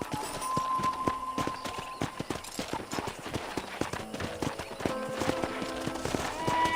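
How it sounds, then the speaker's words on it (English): Horse hooves in Red Dead Redemption clip-clop at a steady walking pace, with faint background music and a voice murmuring in the distance. "I picked out a fine horse for you"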